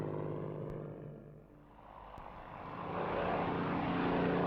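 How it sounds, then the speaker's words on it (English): Supermarine Spitfire fighter with its Merlin engine, a steady propeller-aircraft drone that dips slightly midway and then swells louder and fuller as it draws nearer, heard alone without voices. "it still turns heads and raises emotions with its classic lines and the full-throated roar of its Merlin engine"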